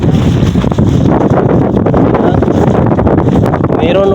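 Strong wind buffets a longline fishing boat at sea, a steady loud roar of gusts that lasts throughout, with voices faintly underneath.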